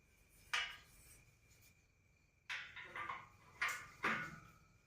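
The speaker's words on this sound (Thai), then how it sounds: "เดี๋ยวปิดประตูก่อนนะคะ" A door is pushed shut inside a house near the kitchen, giving a soft knock followed by a few light clatters and bumps, all quiet with no voices.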